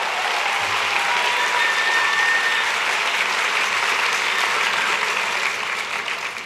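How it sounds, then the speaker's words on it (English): Crowd applause at a Barack Obama rally in Denver, a dense, sustained roar of clapping that holds steady and loud for several seconds before easing slightly at the end. "give her a big round of applause"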